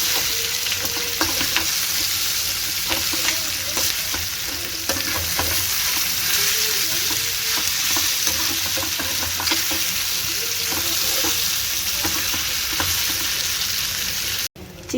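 Chicken fry cooking in a pan over a medium flame, with steady loud frying and sizzling and a spoon stirring and scraping throughout, no talk.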